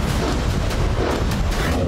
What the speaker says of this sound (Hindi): आसमान में उड़ते हुए शोले नजर आने लगे और धमाके गूंजने लगे।